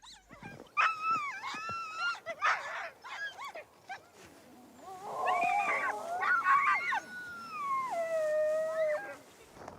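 A pack of Greenland sled dogs wails and howls, long sliding cries rising and falling over one another, joined by short yelps, loud and near, without any voices.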